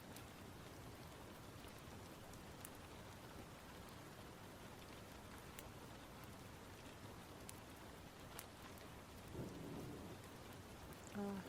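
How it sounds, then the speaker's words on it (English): Rain falls steadily in the background, a faint, even patter with a few sharper drops and a soft low rumble, continuous and quiet with no speech. "It's nice having like the rain in the background for this."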